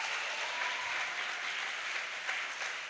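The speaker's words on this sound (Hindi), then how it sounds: "तो एक बार जोरदार तालियां पीयूष जी के लिए।" An audience at a Miranda House event bursts into sustained, even applause for actor Piyush Mishra, the hall full of dense clapping that holds steady throughout.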